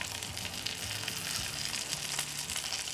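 Smash burger patties sizzle and fry on a Ninja Foodi Pro XL grill and griddle after a sprinkle of seasoning, a dense, steady close-up crackle that runs the whole time with a few low knocks underneath.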